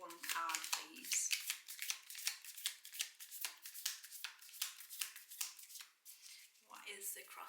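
Tarot cards are shuffled in a long, rapid run of crisp riffling and flicking, close and continuous for several seconds, with a pause near the end before the shuffling resumes.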